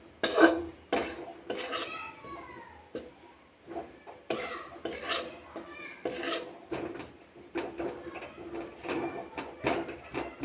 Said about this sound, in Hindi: और मीडियम फ्लेम पे हम इसको भूनेंगे बेसन को।